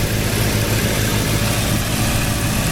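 A red 1966 Ford Mustang GT with a 289 V8, four-barrel carburetor and stock intake idles with a loud, steady, rumbling exhaust close by.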